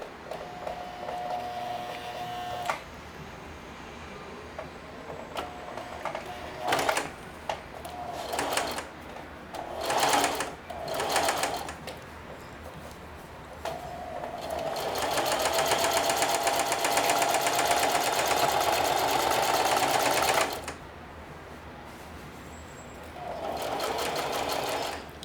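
A sewing machine runs in short stop-start bursts and then one long steady run as it stitches a thick multi-layer seam on a denim apron, close and alone.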